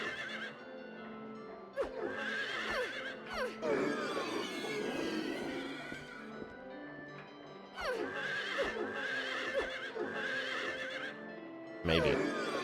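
Horse neighing and whinnying in Silent Hill 3, several whinny calls with clip-clopping hooves, mixed with game ambience and a few stretches of louder, denser sound around the calls.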